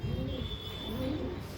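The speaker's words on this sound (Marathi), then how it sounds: "सुपर क्वालिटीचं कबूतर आहे मित्रांनो." A domestic pigeon coos in soft, low, rolling phrases close by, two throaty coos over a faint steady hum.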